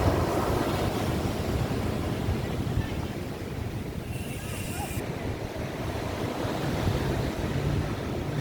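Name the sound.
large sea waves on the shore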